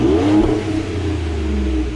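A 3.5 EcoBoost pickup truck with its resonator deleted cranks and catches, then settles into a steady, rumbling idle with a low exhaust growl close by.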